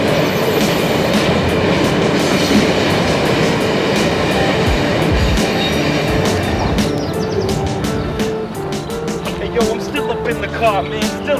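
A train rumbles past close by with a dense, loud roar and clattering wheels, easing off toward the end as sharper clicks and squeals take over.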